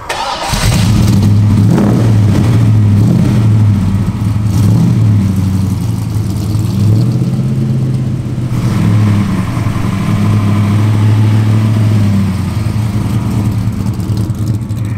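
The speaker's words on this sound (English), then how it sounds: "We're just taking for a drive what I call the XC Falcon Super Coupe." A 1978 Ford Falcon XC coupe engine rumbles loudly and steadily from inside the cabin, its deep drone rising and falling as the car drives along.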